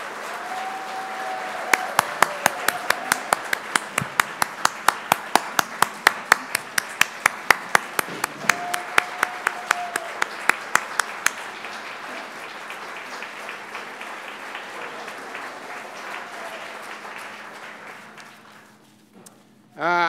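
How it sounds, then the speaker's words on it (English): Audience applause at an awards banquet: a room of people clapping, with one set of sharp, evenly spaced claps standing out for several seconds before fading. "Now you can clap."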